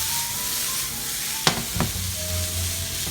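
Sliced Philly steak sizzles steadily on a hot cooking surface, with a couple of brief clanks and scrapes as the meat is flipped.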